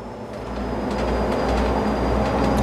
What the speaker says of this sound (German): Wir fahren mit einem ehemaligen Schillingbus MAN 1004.